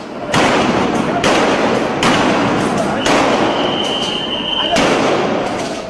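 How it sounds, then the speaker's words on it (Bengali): Loud sharp blasts of gunfire and sound grenades during a street clash between police and protesters in Dhaka, five or six heavy booming reports spaced about a second apart over a constant crowd din. "জবাবে আসে গুলি আর সাউন্ড গ্রেনেড।"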